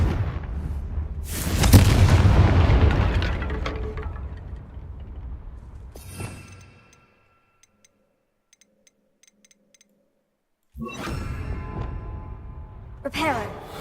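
A Confringo fire spell explodes in the video game Hogwarts Legacy with a loud, booming blast that rumbles and fades over several seconds. Near silence follows, then more crackling game sound returns.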